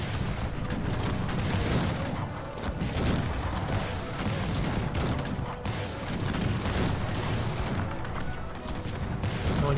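Dense 18th-century battle in the strategy game Cossacks 3, with musket volleys and cannon fire rolling together into a continuous, loud roar of overlapping shots and booms that never lets up.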